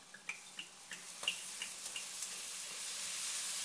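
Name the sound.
red wine poured into hot pot to deglaze beef stew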